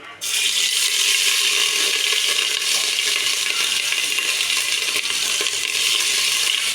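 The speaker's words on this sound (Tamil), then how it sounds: "இப்போ எண்ணெய் காஞ்சிருச்சு இஞ்சி பூண்டு பேஸ்ட்டு நம்ம போட்டுக்கலாம்" Ginger garlic paste hits hot oil in a pan and sets off a loud, steady, hissing sizzle that holds unbroken throughout.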